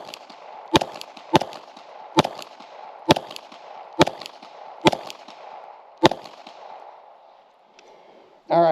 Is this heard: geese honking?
no